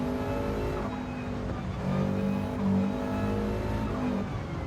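Race car engine in Gran Turismo 7, a loud harmonic drone that rises and falls as the revs climb through gear changes, close and continuous.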